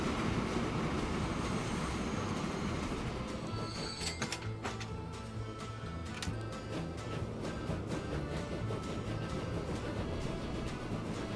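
A train runs along the rails in the Transport Fever 2 game on the Trans-Siberian route, a continuous rumbling roll with steady clatter and a few sharp metallic clicks, no talking.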